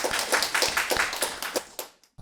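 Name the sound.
audience clapping for a scholarship student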